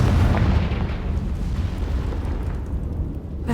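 A Confringo blasting spell explodes in Hogwarts Legacy: a loud, booming burst at the start that settles into a rumbling roar which fades slowly over a few seconds.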